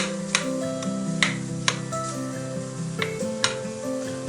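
Butter being mixed a little at a time into a pudding mixture makes a series of short, sharp ticks and taps about every half second. They sound close and sit over steady soft background music.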